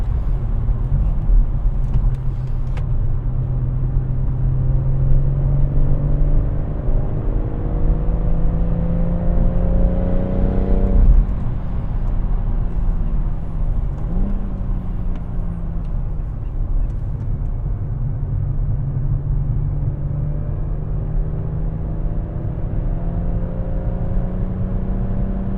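A BMW M140i with a limited-slip differential and Kumho Ecsta PS91 tyres on the Goodwood circuit in the rain, its engine droning steadily from inside the car, pitch climbing and dropping through gear changes.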